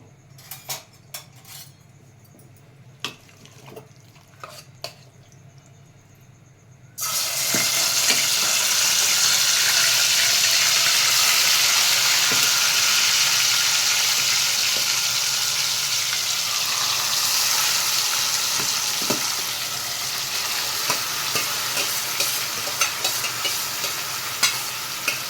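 Marinated masala paste dropped into hot oil in a pan, bursting into a loud, steady sizzle after a few quiet clinks, then frying on continuously while utensils scrape and stir through it.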